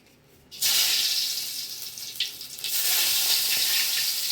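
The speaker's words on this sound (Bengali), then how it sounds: "এবার দেখো তেলের মধ্যে দেবো আমি কালো জিরে" Nigella seeds drop into hot oil left from frying small fish and burst into a loud, sudden sizzle that stays strong and crackling after a quiet start.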